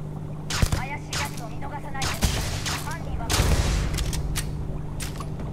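Gunshots in the space RPG Starfield: a few sharp, loud reports spaced apart, followed by a heavier rolling burst of fire, heard over low ambient hum with some talk mixed in.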